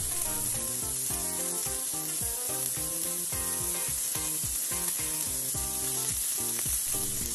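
A smash burger patty sizzles steadily in a hot pan after being flipped, a constant loud frying hiss that runs without pause. Music plays over it.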